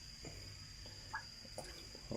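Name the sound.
young frogs being raised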